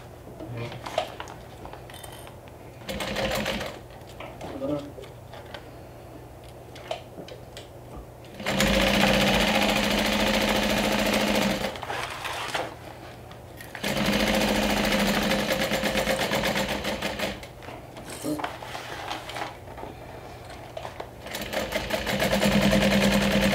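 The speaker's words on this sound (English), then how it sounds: "We're going to go ahead and stitch all around that rectangle bottom piece, all around." Sewing machine running in several sustained bursts as it stitches around the rectangular bottom lining piece of a Wayfarer-style bag, close and steady, with quiet pauses between runs.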